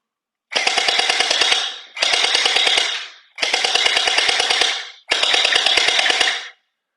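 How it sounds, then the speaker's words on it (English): A Shell Throw Mini M416 gel ball blaster fires four loud, close bursts of rapid clicking shots, each lasting about a second with short pauses between. "Let's go ahead and let's see how hard it shoots."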